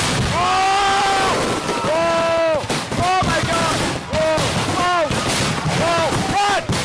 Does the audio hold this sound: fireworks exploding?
yes